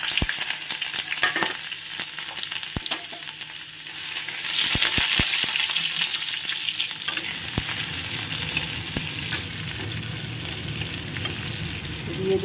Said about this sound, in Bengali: আর এখানে দিয়ে দিলাম কালো জিরে ফোড়ন, পেঁয়াজ কুচি আর লঙ্কা কুচি।